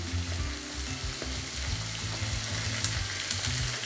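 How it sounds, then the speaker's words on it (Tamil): Two onions frying in a pan for a dried-fish curry (karuvadu kulambu), a steady broadband sizzle over a low musical hum, holding even and close throughout with no talk. "2 வெங்காயத்தையும் நான் போட்டுக்கிறேன்."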